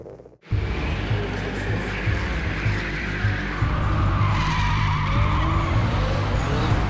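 Race car tyres skid and slide through a drift, a loud continuous squeal over a steady engine roar that starts abruptly after a brief silence and holds close throughout, with no talking.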